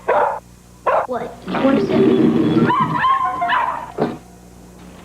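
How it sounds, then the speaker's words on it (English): A dog gives yips, whimpers and short barks, close and loud, with a person speaking between the sounds. "Crazy dog."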